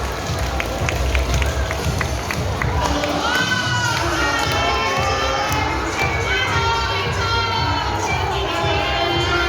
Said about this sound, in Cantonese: 俾啲掌聲佢哋啦